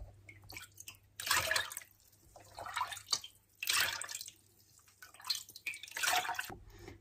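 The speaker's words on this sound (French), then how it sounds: "C'est plus facile de verser comme ça, avec un bec pointu dans la bouteille" Homemade lemonade is poured from a pointed spout into a bottle, giving several close bursts of splashing, trickling liquid separated by short pauses, with no talking.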